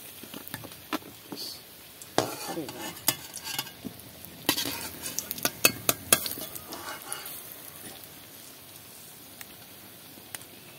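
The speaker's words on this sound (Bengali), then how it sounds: "দেখুন মাছের ডিমগুলো সব আমি এইভাবে ভেজে নিয়েছি, এগুলো তুলে নিচ্ছি।" Fried fish roe lifted out of a pan, scattered clinks and scrapes of a utensil against metal over a faint sizzle, busiest midway then thinning out.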